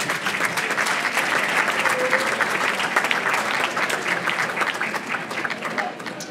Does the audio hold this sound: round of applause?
yes